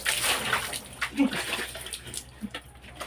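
Water being poured over a child's head during a bath, splashing and sloshing in uneven bursts while an adult speaks nearby.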